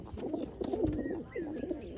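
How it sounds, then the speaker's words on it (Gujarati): Pigeons perched in a rooftop loft give soft, rolling coos in repeated bursts, fairly near but quiet, with a few faint higher chirps in between. "એટલા કબૂતર બેઠા ઉપર."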